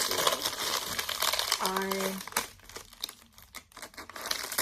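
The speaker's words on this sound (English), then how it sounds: "I know it's criminal that I'm using my fabric scissors" Fabric scissors cutting cotton fabric for a sewn eye mask, with crisp crinkly snipping and rustling up close, a brief tonal buzz in the middle, and some soft handling noise afterward.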